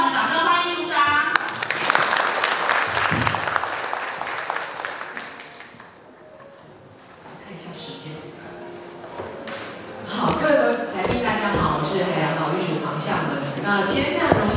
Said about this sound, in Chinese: 让我们掌声欢迎署长。